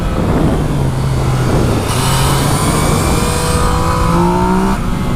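A 2017 Yamaha MT-09 motorcycle at full throttle in second gear, its engine tone rising in a loud, close pull over steady wind rush, with a brief higher whine partway through.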